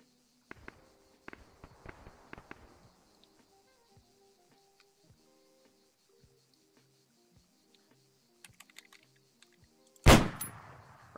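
Sniper rifle shots in Arma 3, a few sparse sharp cracks and faint clicks spread over quiet stretches, ending in one loud close report with a brief decaying tail.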